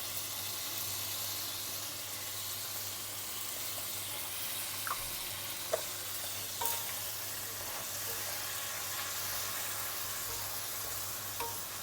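English spinach and chicken stir-fry in a pan: a soft, continuous sizzle as the liquid cooks off, with a few faint clicks from the stirring utensil and no talking.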